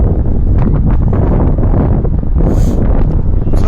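Heavy wind buffets the microphone continuously on a cold day at a wet skid pad in South Bend, a loud rumbling roar with no breaks.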